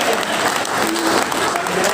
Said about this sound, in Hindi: एक बार जोरदार तालियां मिलेगी आपको